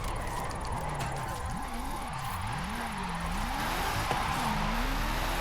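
Formula Drift car engine in a racing game, revving in fourth gear climbing a hill, a steady droning note wavering up and down, with a voice talking over it throughout.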